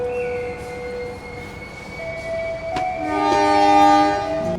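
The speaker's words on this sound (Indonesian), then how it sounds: "kereta api komuter lain Garut diberangkatkan dari stasiun Purwakarta" A Garut local commuter train departs from Purwakarta station with sustained tonal horn or whistle blasts over rail rumble, and the sound swells louder toward the end.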